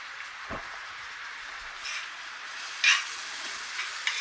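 Chopped tomato and green chilli are stirred into onions in a frying pan, making a soft frying hiss with a few scraping stirs and light clinks scattered through.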